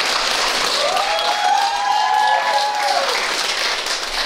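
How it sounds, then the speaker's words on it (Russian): Wedding guests applaud in a steady wash of clapping that fills the room. A faint voice or tone runs briefly underneath. "Громче аплодируйте, дорогие уважаемые гости!"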